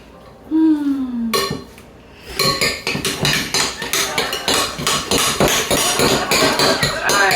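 Cauliflower bites ingredients are stirred in a bowl with a utensil, a fast run of repeated scraping clinks against the bowl, close and steady, following a short voice at the start.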